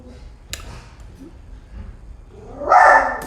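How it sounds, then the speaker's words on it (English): A dog barks in the background of an indoor room, a faint early yip then one louder, drawn-out bark near the end, with no clear talk over it. "excuse the dog in the background there."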